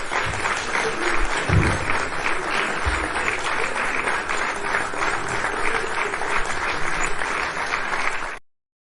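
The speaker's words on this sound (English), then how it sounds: "And clap." Steady applause from a group of people clapping, a dense continuous patter at moderate loudness lasting several seconds before cutting off abruptly.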